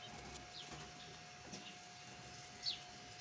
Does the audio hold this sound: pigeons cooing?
yes